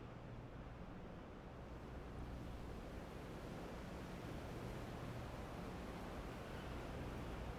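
Pacific Ocean surf at the Pebble Beach golf course in PGA TOUR 2K23, a steady, dense wash of breaking waves with no pauses, fairly loud and unbroken by any voice.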